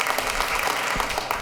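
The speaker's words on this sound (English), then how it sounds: "I'm going to ask you to hold your applause until after the vote's taken" An audience at an Oceanside city council meeting claps in a dense, continuous burst of applause for about a second and a half, filling an indoor chamber.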